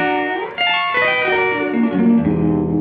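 EarthQuaker Devices Rainbow Machine pedal pitch-shifting effect: bright, shimmering harmonic tones with warbling, sliding pitch, a short dropout then sustained layered notes, loud and alone.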